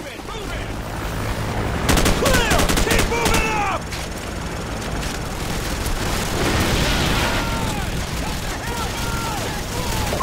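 Dense, continuous automatic gunfire and explosions fill a Call of Duty: Modern Warfare battle in a bog, with bursts overlapping, whizzing effects and shouted voices over the din.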